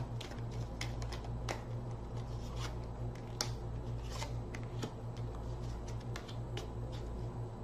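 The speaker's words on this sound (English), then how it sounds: "One more shuffle." Steady papery riffling of tarot cards being shuffled, close up, with occasional sharper flicks and no talking.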